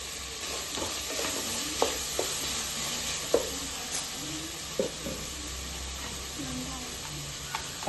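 Green chillies and onions sizzle in a pan for a crab curry, a steady frying hiss broken by several sharp stirring clanks of a utensil against the pan.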